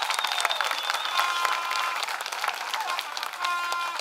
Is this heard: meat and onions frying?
no